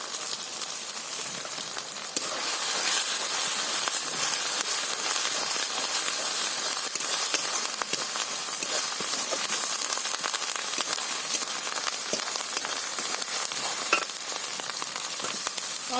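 Ginger dropped into hot oil for a village-style fish curry, giving a steady, close crackling sizzle that holds evenly throughout with no talking.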